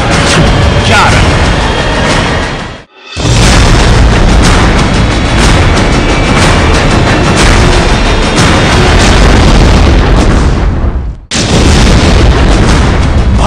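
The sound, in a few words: artillery explosions hitting Pakistani army posts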